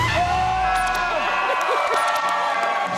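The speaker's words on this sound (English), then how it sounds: "Scream if you're ready for Halloween." A studio or event crowd screams and cheers for Halloween, a burst of mixed whoops and shouts that stays loud and lively for the whole stretch, with voices rising and falling over one another.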